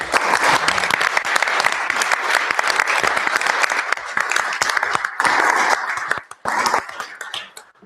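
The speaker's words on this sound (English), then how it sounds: "let's give them a round of applause" Applause at a city council regular meeting in Ottumwa, a sustained round of clapping filling the room for several seconds, thinning briefly near the end before a final burst.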